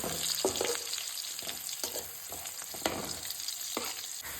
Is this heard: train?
no